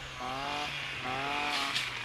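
An outdoor saw cutting wood on a cleared plot full of stumps drones in two rising bursts, its buzzing motor fairly close and steady against a quiet background.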